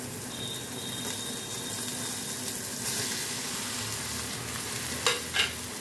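Fried soybean chunks being stirred into a sizzling cooked spice paste for a soybean malai curry, a steady soft sizzle with stirring scrapes and a couple of sharper clinks near the end.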